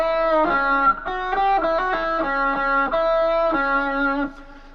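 An electric guitar plays a riff in two-note harmony, a quick run of clean sustained notes with a light effect, ending on a held tone.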